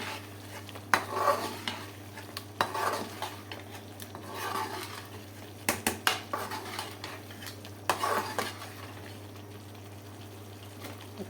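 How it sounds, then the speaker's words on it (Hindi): A spoon scrapes and clatters in a pan of frying chicken korma masala in a home kitchen, in intermittent stirring bursts with a soft sizzle and a steady low hum underneath. "अच्छे से इसको भून लेंगे।"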